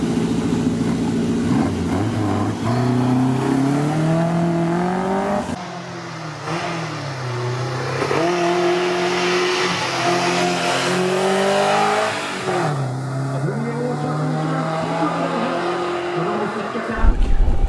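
A Lotus 7 replica car climbs a historic hill-climb course, its engine revving loudly and rising through gears in repeated sweeps, with a brief drop between pulls and a short burst at the end.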